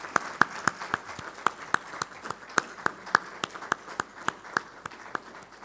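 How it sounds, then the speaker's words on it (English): Scattered applause at a logistics policy event for the chief guest: a few individual claps stand out in a fairly regular rhythm over a quieter spread of clapping, moderately close. "Please give a round of applause to our chief guest."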